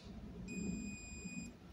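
Multimeter continuity buzzer sounds one steady, faint, high beep for about a second while probing the switch of a wireless microphone, with a low hum underneath and no talk.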